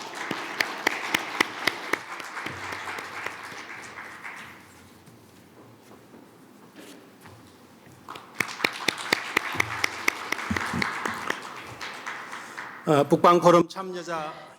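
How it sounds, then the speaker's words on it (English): Audience applause at a conference opening ceremony, clapping in two bursts of sustained, dense claps with a quieter gap between them and a brief flurry at the end, fairly close and loud with no talk over it. "Please welcome him with a big round of applause"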